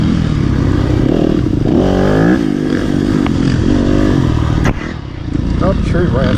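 A Yamaha YZ250FX dirt bike rides through woods, its engine loud and close throughout, revving up and down, with a brief sharp snap midway. A rider talks over the engine.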